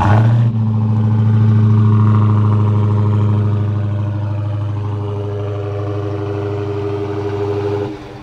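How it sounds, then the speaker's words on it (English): Dodge Charger SRT Hellcat Widebody remote-started, a loud supercharged V8 firing up with a sharp flare, then settling into a deep, steady burbling idle close by before it abruptly shuts off. "It's going to remote start."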